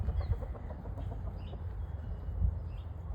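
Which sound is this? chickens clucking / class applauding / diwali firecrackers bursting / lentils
chickens clucking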